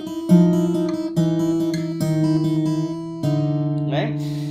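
Fingerstyle acoustic guitar picking a film theme intro, a steady repeated bass note with short plucked higher notes on top, close and clear, with a brief voice at the end.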